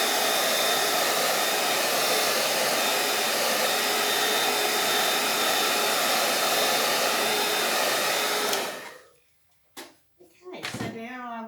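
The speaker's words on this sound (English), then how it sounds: "so let me just get the old hairdryer." A hair dryer blows steadily and loudly while drying freshly stenciled paint, a constant whooshing hum that cuts off abruptly near the end, followed by a couple of brief knocks and a short voice.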